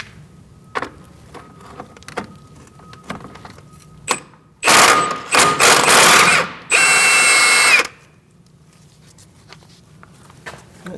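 Power tool running in bursts while removing the top strut bolt on a 2002-2006 Toyota Camry during front CV axle replacement, a few short taps then sustained loud whirring, close up, with no talk.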